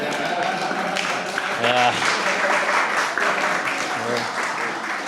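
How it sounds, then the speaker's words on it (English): Applause and clapping from a stand-up comedy audience fill the background, steady and moderately loud, while a comedian speaks briefly over it. "I'm waiting for you guys to clap so that I can see."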